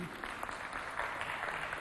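A crowd claps continuously, a dense even wash of applause without pauses.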